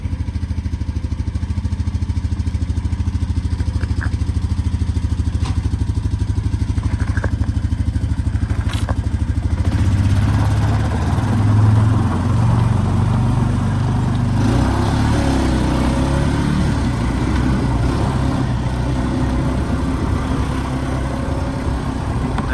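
A vehicle engine drones loudly and steadily as it climbs a hill on a rural property near a barn and house, its rumble rising and roughening midway with some clatter, and no one speaking.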